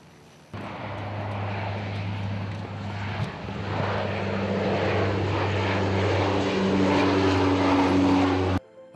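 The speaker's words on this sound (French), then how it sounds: "Les moteurs tournent et le décollage semble imminent." A presidential airliner's engines drone steady and loud through a takeoff roll, a low sustained hum with rising tonal whine and broad rushing roar building after a sharp onset, cutting off abruptly near the end.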